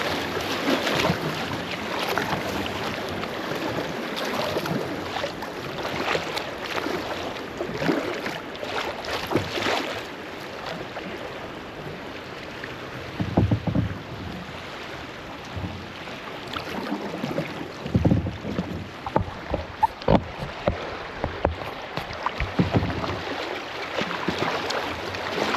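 A kayak drifts through the rapids of the Maple River, with water rushing and splashing around the hull, uneven wind noise, and occasional knocks and sloshes close by, and no voices.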